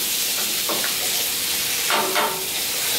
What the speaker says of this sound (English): Let's drop the rice. Let's mix